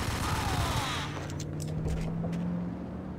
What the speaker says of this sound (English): Dual wielding and bullet time is so much fun, honestly, especially when you finally got the Ingram Mach-10 submachine guns.